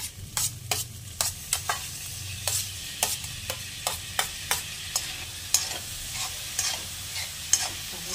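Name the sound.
tomatoes and garlic being stir-fried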